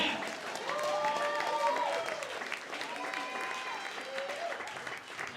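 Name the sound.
audience applause for the band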